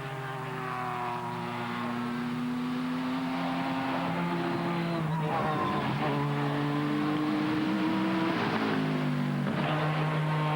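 A silver Pilbeam Nissan V6 sports prototype races past at about 265 km/h in a 2000 Sportscar World Championship event, its loud engine note rising and falling through gear changes, with other race cars roaring nearby.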